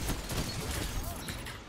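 Rapid bursts of gunfire in Destiny 2 during a Crucible player-versus-player match crackle at steady loudness, dense and continuous, with voices mixed in.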